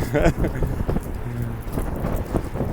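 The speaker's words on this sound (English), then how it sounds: "And it's so windy here." Gusty outdoor wind in Sofia, Bulgaria, buffets the microphone in loud rumbling bursts while a person talks over it.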